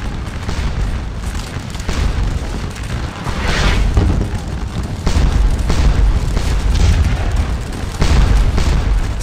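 A Napoleonic battle near the Papelotte farmhouse rumbles with continuous musket volleys and artillery fire, a loud, dense, unbroken roar of booms and crackling shots with no voices.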